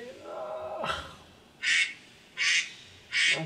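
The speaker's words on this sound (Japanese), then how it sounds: "もアヒルが鳴いてるよ" Three loud nasal duck quacks at even intervals, close by, after a brief rising squeaky sound at the start.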